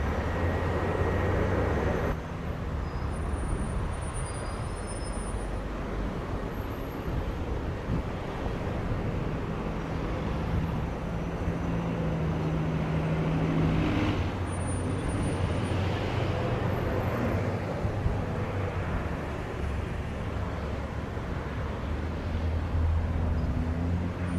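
An airliner takes off from a runway at Montego Bay, Jamaica, making a steady, broad engine roar that holds for over twenty seconds, mixed with wind noise at a distance.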